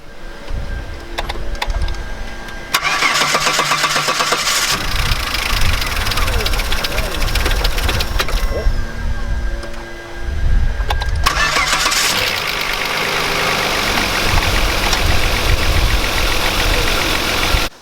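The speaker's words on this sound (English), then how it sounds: "Now we just need to start the car and see if it actually runs." A Vauxhall Vectra engine cranks and fires after a fuel pump replacement, with two loud bursts of starting and revving separated by a brief dip, the engine running steadily and close by.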